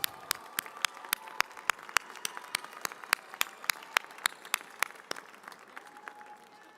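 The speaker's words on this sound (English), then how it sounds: "Join me in giving them a round of applause." Commencement audience at a University of Wyoming winter graduation applauding graduates' loved ones: a thin, sparse patter of distinct individual claps in a large hall, fairly quiet and steady throughout.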